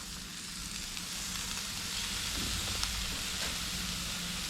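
A sablefish fillet frying skin side down in hot oil gives a steady, close sizzle that swells slightly and holds, with faint crackles throughout.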